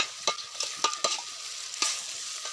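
Marinated chicken being stirred in a hot pot for biryani, cooked outdoors by a river: several scraping strokes of the spoon over a steady, close sizzle.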